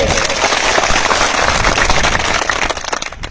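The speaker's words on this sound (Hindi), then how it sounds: "एक ताली अपने वास्ते सारे मारेंगे।" Dense, loud applause from an audience of casual labourers at an outdoor rally, a steady wash of many hands clapping close by that thins slightly toward the end.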